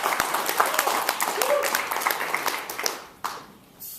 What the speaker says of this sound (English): Give him a Wharton applause.